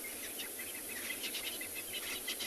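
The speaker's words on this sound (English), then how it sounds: "all the birds now starting to chirp up" Birds chirping at sunset on an African safari drive, a dense, faint wash of overlapping calls and insect-like trills spread evenly across the stretch with no talking.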